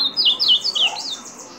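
An azulão, or blue grosbeak, kept as a cage bird, gives a quick run of high, bright whistled notes that rise and fall, close by and clear over a quiet background, then fades into silence.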